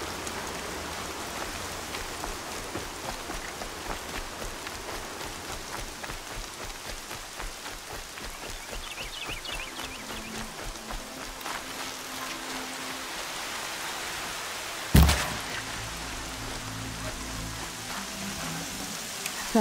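Steady rain in the video game Horizon Zero Dawn pours down continuously, a dense hiss of drops on surfaces, with a brief thump near the end.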